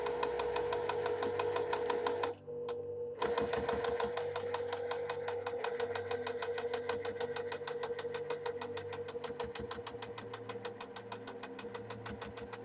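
Sewing machine stitching down vintage nine-patch quilt blocks, a steady rapid needle rhythm running close and loud nearly the whole time, with one brief pause early on.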